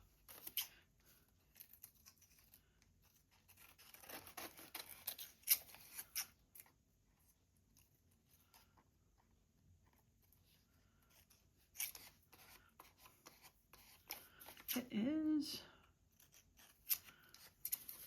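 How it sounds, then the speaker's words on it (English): Scissors snipping through tissue paper around a curve, soft scattered cuts and paper rustles at close range, with a brief spoken remark partway through. "hard to cut tissue paper around a curve"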